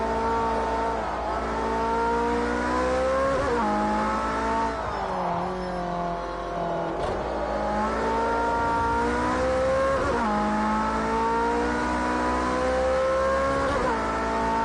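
A Porsche supercar accelerates hard toward top speed, its engine note climbing steadily in loud, continuous rising sweeps, with a brief dip and recovery as it shifts into sixth gear before pulling up again.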